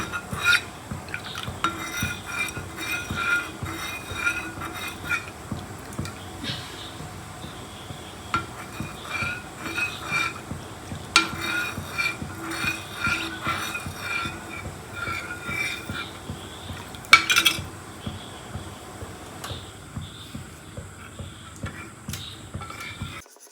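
Rhythmic thick stirring in a pot, a spoon repeatedly scraping and slapping through dense homemade facial paste, close up with occasional clinks of metal.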